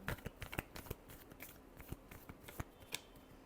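Tarot cards are shuffled by hand in a quiet room, a soft steady run of papery riffles and taps with no talking.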